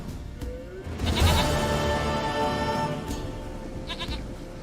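A goat bleats in The Witcher 3, one loud wavering cry that rises and then trails off, followed by a shorter faint bleat, with no speech over it.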